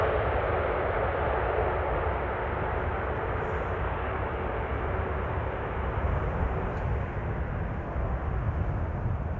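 A Boeing 747-8 airliner rolls out after landing at Amsterdam Schiphol, heard as a loud, continuous broadband roar of engines holding steady throughout with no voices.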